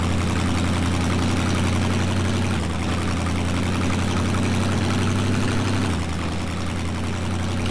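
Truck engine in the SnowRunner driving game, a big rig on cracked tractor crawler tires powering through mud, a loud, constant low rumbling drone that holds steady throughout with only slight shifts in pitch.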